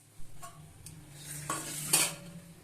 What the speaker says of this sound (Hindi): अब यहाँ पे हम हलवे को डिश आउट कर रहे हैं।